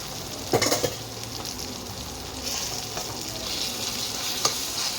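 Tomatoes fry in a covered pan, giving a steady sizzle with stirring and scraping noises and a few sharp clatters near the start and toward the end.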